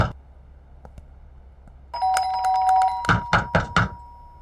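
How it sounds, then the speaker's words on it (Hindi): Doorbell rings at an apartment door with a sustained electronic chime, followed by several loud thuds of knocking on the door. "मैं बजा रहा हूँ ना घंटी।"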